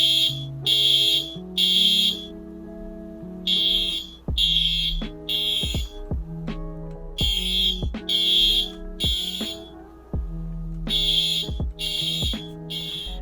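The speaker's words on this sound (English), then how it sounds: "he's going to demonstrate what the fire alarms look like in Toys for Trucks." A fire alarm in the Roblox game Greenville sounds in repeated bursts of high electronic beeping, loud and close, stopping and restarting in a steady on-off pattern alongside a low tone.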